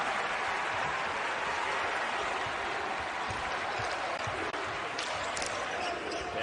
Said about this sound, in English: Crowd rallying behind their team